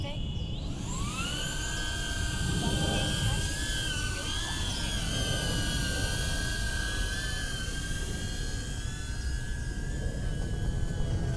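A DJI Neo drone fitted with five-blade propellers spins up and lifts off outdoors on a windy day, its high whine rising quickly in pitch and then holding as a steady close buzz over wind rumble.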